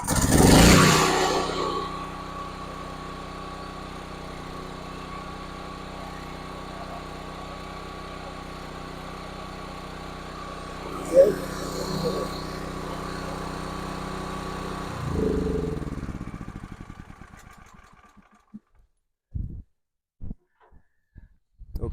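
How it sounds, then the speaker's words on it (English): A DuroMax XP 13000 EH generator, pull-started, its engine running with a steady drone and an exhaust noise burst at the start, then winding down and stopping near the end, followed by a few clunks. "Okay, runs good. I think it's a nice little generator."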